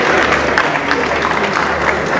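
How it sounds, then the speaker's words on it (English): A studio or gathering audience bursts into a round of applause, steady dense clapping mixed with some crowd murmur, fairly loud and close. "I think he deserves a round of applause."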